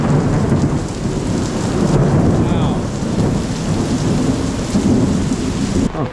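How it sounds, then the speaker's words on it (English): Heavy rain pours steadily during a thunderstorm in Fuzhou, China, with deep thunder rumbling through the downpour, loud and close throughout with no talking. "But it's still raining."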